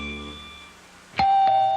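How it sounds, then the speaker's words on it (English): A two-tone ding-dong doorbell chimes once, loud and close, following a quieter stretch of sustained tones and low hum, with the second bright chime ringing out and fading slowly. "The doorbell rang, and in came Mr. and Mrs. Wilson with Peggy and Roger."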